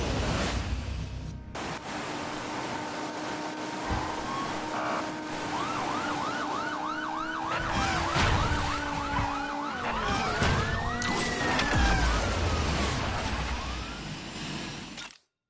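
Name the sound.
police car sirens in a video game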